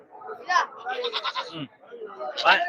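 Goats bleat at a Friday goat market in Ettayapuram, with several loud wavering cries close by and a second bleat near the end, mixed with people talking nearby.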